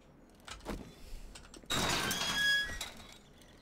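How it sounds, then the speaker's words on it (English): Doors are banged on in the zombie survival game 7 Days To Die, a few scattered knocks followed by a loud, sustained thudding burst with a rattling edge, fairly close. "Banging on the doors."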